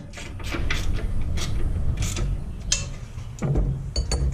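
Ratchet tightening headlight bolts on a 1983 Trans Am, with bursts of clicking and mechanical grinding close up, broken by short pauses and a few clanks against the car.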